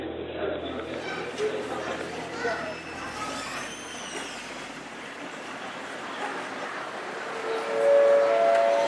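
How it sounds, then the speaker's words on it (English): Indoor ambience at the Urumqi train station: a steady rumbling hum with scattered crowd chatter and distant tonal calls, and a louder swell near the end. "We are at the Urumqi train station, about to try and get out of the city."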